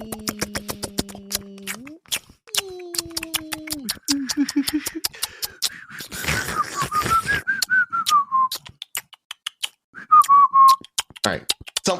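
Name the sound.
people imitating alien clicks and whistles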